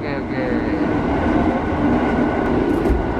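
Onboard a KRL JR 205 commuter electric train during a trial run between Jogja and Solo: a steady, loud rolling rumble with a constant mechanical hum, with no one speaking.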